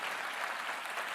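A crowd at a national election campaign launch applauds, a brief wash of many hands clapping at a distance, moderately soft and even, with no speech over it.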